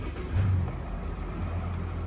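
A 2018 Mercedes S350 long-wheelbase S-Class engine fires up from a push-button start, a short low rumble swelling briefly before settling into a steady, fairly quiet idle.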